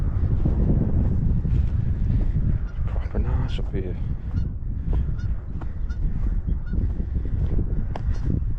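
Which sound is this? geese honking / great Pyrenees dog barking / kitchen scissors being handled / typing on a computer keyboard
geese honking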